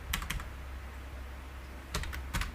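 Java code typed on a computer keyboard, two short bursts of quick clustered keystrokes, one at the start and one near the end, separated by a quiet pause over a low hum.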